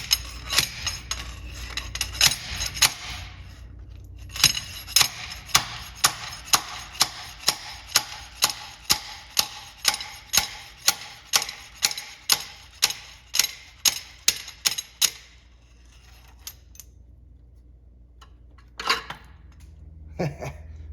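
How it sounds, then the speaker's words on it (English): Rapid repeated metallic clanks from a cheap slide hammer knock in a steady rhythm, then stop, followed by a couple of final scattered clinks, while working on a 1959 Buick Invicta. "my little cheap Chinese slide hammer, and it seems to be working"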